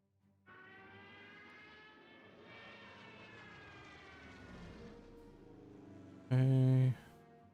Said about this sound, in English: we destroyed that unit entirely with air forces